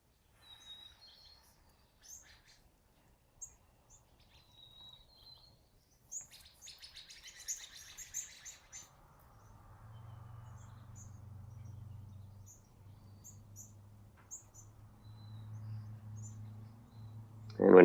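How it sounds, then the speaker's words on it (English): Sparrows chirp faintly outside in short scattered calls, with a low hum rising partway through and a sudden loud burst at the very end. "I had the birds chirping"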